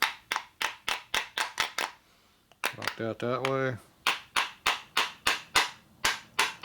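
Repeated sharp hammer taps on the tabs of a 1976 Harley-Davidson Shovelhead 4-speed transmission during a rebuild, a steady run of close, loud metallic strikes broken by a brief pause with a voice speaking in the middle.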